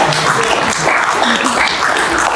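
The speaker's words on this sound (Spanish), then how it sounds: "Déjole un aplauso a esas elecciones y a ese pueblo en este momento" A crowd at a Manuel Zelaya speech marking the anniversary of the Honduras coup breaks into loud, sustained applause and cheering, a dense wash of clapping filling the whole stretch.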